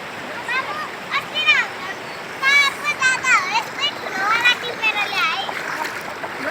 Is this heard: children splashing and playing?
yes